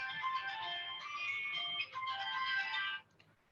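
Phone ringing, a tonal electronic ringtone melody playing faintly for about three seconds before it cuts off, with no talk over it.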